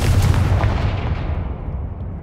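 The Confringo fire spell bursts in Hogwarts Legacy gameplay, a loud booming explosion at the start that rumbles and decays over about two seconds.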